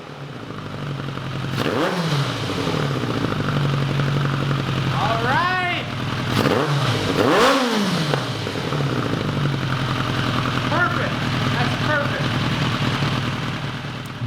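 A 1986 Kawasaki GPZ1000RX engine idles at around 2000 rpm, a steady low drone running the whole time, close and fairly loud, with brief clatters and a voice or two passing over it.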